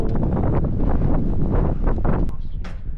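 Strong wind buffets the microphone outdoors at Ironman Wales, a loud, continuous roaring rush with gusty swells throughout.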